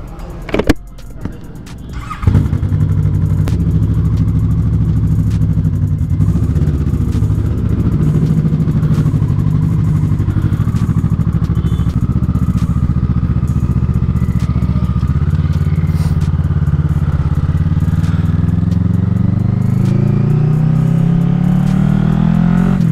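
A Kawasaki 1000 cc motorcycle in a showroom: after a few clicks and clatter, the engine fires at about two seconds and then idles loudly and steadily close by, its note rising slightly toward the end.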